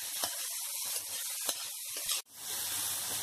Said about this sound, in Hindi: अब इसे भून लेती हूँ।